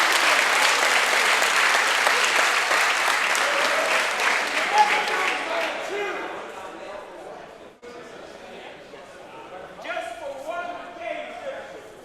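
An audience at the X-Wing Team Championships gives loud sustained applause and cheering for the Netherlands team. It starts as dense clapping and fades into scattered claps, with a few louder bursts near the end.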